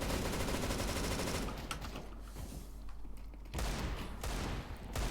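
Gunfire in a Counter-Strike match on the Overpass map, including a USP pistol shot, loud bursts at the start and end with a quieter stretch of game ambience between.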